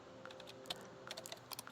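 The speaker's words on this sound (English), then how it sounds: "typing on a computer," Soft clicks of typing on a computer keyboard in the video game SCHiM, a quiet irregular patter of keystrokes with small bursts and pauses, heard alone with no talking.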